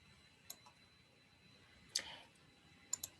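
Mouse clicks on a computer while clipping a screenshot into Evernote, a few sharp faint clicks spread apart, with a closer double click near the end over a quiet room hiss.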